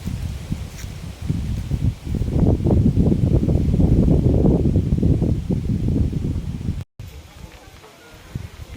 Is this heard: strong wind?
yes